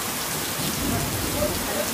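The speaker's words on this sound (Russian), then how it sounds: "А сейчас на нас обрушился гром, гроза" Heavy downpour pounding down in Gurzuf, Crimea, a steady dense roar of rain filling the whole space, with a low rumble of thunder underneath throughout, no voices.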